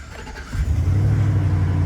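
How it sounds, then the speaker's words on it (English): A Chevy Express van engine cranks briefly and then catches, settling into a loud, steady idle close by, with no talking over it. "let's see if this thing cranks."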